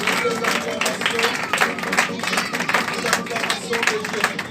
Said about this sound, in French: Est-ce qu'on peut acclamer très très fort?